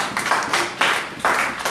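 A church congregation at a thanksgiving service claps and cheers to welcome a guest, in several loud, broad bursts of applause that swell and fade over a couple of seconds.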